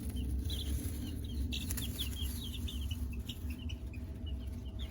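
Young chicks kept under a heat lamp give a series of high, thin peeps, some in quick clusters, over a low steady hum. Everything sounds close but soft, with no voices.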